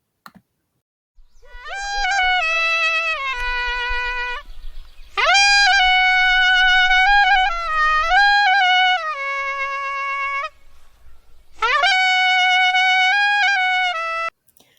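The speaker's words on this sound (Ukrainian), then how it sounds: "Ви вірно здогадалися, це звучала дудочка" A small folk pipe plays bright, shrill melodic phrases in three bursts with short pauses between, close and clear.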